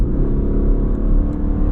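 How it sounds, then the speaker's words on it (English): A Ford Escape Titanium plug-in hybrid pulls away at full throttle, its engine a steady, loud low rumble heard from inside the cabin for under two seconds, with no one speaking. "And we're going to floor it."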